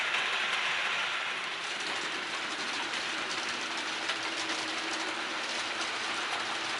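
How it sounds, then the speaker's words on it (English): Model railway trains run steadily on a newly ballasted layout, a continuous close rolling rumble with light clicking from the track and no voices. "So it's just nice now to be able to sit back and play trains."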